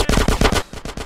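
Rapid automatic gunfire in GTA San Andreas, a loud burst of close shots in quick, even succession that pauses briefly before a few more shots follow.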